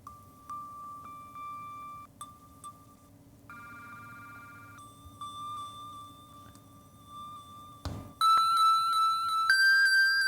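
A series of electronic bell tones and chimes from an Ableton Move, steady tonal dings shifting in pitch, then a brighter cluster of overlapping chimes after a brief crackle, over a low hum.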